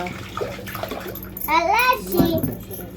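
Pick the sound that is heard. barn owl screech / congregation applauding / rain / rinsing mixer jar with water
rinsing mixer jar with water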